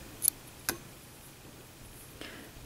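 Two crisp scissor snips cutting crochet yarn, short and close, separated by a pause, followed by a fainter click in an otherwise quiet room.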